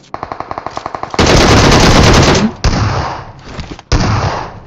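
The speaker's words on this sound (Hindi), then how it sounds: "पीछे की तरफ से फायरिंग हुई" Gunfire in the BGMI battle royale game: a rapid burst of evenly spaced automatic shots, then a loud sustained barrage followed by several shorter bursts, close and harsh.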